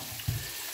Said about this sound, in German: Jetzt müssen wir direkt an der Pfanne bleiben. Das darf jetzt nicht zu fest brutzeln.